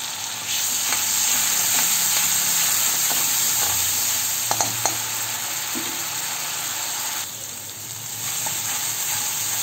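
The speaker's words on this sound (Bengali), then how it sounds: "এবার মশলাটা দিয়ে আমি খুব ভালো করে এটাকে কষতে থাকবো" Masala spice paste fries steadily in a pan while being stirred for a pomfret fish curry, with a continuous close sizzle and a few faint clinks of the spoon.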